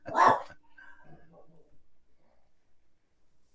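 A single short, sharp dog bark sounds close at the start, followed by faint, low indoor rustling that fades to near silence.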